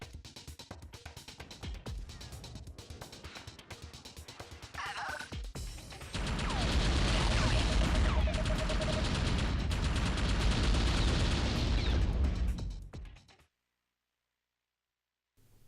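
Explosions and gunfire from the retro PC game Descent 2 play on a Pentium MMX computer as a dense, loud barrage of blasts and shots that stops abruptly into silence.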